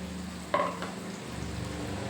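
A spoon scrapes around a pot of simmering dal curry, a single clear stir against a soft sizzling, bubbling background with no talking.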